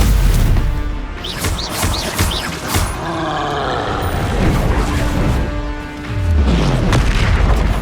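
Confringo and Flipendo spells in the game Hogwarts Legacy fire off in a string of loud booming blasts and whooshing magic effects, layered with rumbling impacts and game sound.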